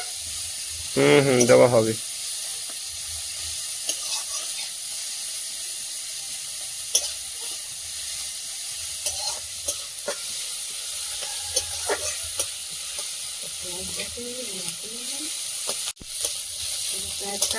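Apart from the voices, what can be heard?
onions frying in a pan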